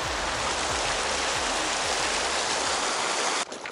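Water rushes steadily through a small irrigation canal along a road in Peru, a close, loud, even broadband flow that drops away abruptly near the end.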